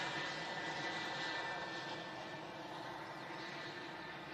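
A KLM passenger jet airliner at Manchester Airport roars steadily as it passes, a broad, even engine rumble and hiss heard from a distance with no talking over it.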